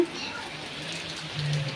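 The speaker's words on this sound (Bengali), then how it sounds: "বাইরে কেমন বৃষ্টি পড়ছে" Steady rain falling outside during a cyclone storm, a soft continuous hiss with no distinct drops, alone and fairly even throughout.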